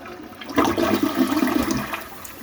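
Full flush of a newly installed toilet draining the entire tank, a loud close rush of water that surges in and churns steadily for about two seconds.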